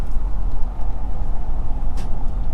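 A truck drives along Needles Highway, the winding road in South Dakota, giving a steady low rumble of engine and road noise with a brief hiss near the end. It runs loud and unbroken, with no voices.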